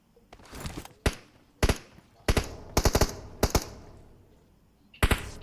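Gunfire in a video game crackles in short, sharp bursts, single shots and quick doublets spaced irregularly over a quiet background, with distant-sounding, moderate loudness and no clear talking.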